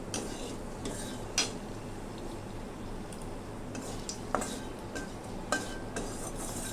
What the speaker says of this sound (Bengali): ফোড়নটা একটু ভালো করেই ভাজি আমি